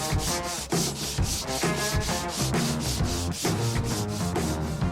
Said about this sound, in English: we take an abrasive fiber and scuff the body